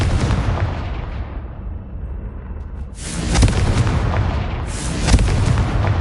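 A Confringo fire spell explodes in the game Hogwarts Legacy, giving loud booming blasts with a fading roar between them, followed by two further sharp bursts later, with no talking.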